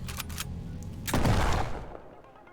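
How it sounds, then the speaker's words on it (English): A single loud gunshot in an indoor hallway, a sharp broadband blast with a reverberant echo tail trailing off over about a second. "a loud gunshot echoed in the hallway"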